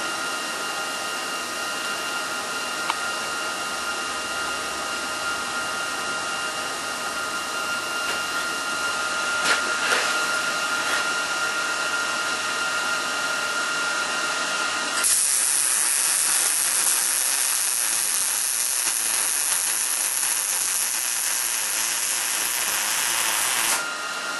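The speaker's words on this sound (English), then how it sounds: "see if I can do a nice weld for you" Welding on a fabrication table: a steady, close, continuous hiss and crackle that lasts throughout and turns brighter and harsher about midway, with no talking.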